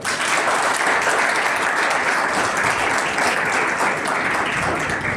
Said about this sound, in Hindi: उनके लिए एक जोरदार ताली